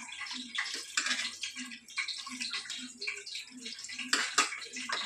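Fish, already cleaned with lemon and salt, rinsed again under running tap water at home, with a steady splashing gush and irregular spatters, close and continuous without talk.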